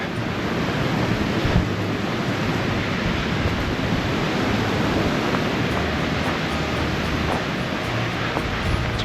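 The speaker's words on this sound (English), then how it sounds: "Powerful wind today." Strong wind blows outdoors near open water in April, roaring as a loud, continuous rush that buffets the microphone with no break, and no one speaks.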